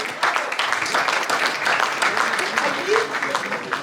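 An auction room audience applauds a classic car sale, with a burst of brisk clapping mixed with voices and murmurs throughout, fairly loud and close.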